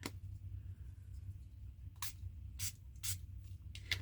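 Several short, sharp sprays of a pump mist bottle, four separate hissing bursts spaced apart over a quiet background.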